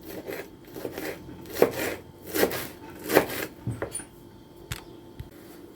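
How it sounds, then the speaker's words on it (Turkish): Parsley being finely chopped with a knife on a wooden board, a few distinct knocks spaced about a second apart between softer scraping and rustling, close by and fairly quiet. "çeyrek demet maydanozum var. Onu da bir doğrayacağım. Küçük küçük"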